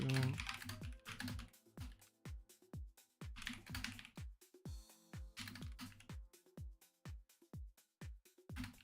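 Typing on a computer keyboard, a quick, uneven run of crisp key clicks in short bursts with brief pauses, close and fairly quiet, with no talk.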